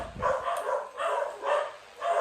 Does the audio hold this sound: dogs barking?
yes